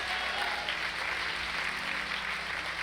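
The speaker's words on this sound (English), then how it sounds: "let's give a big round of applause." Sustained audience applause fills a campaign mass meeting hall on the Poor People's Campaign tour stop in Shreveport, a steady dense wash of clapping from a large crowd throughout.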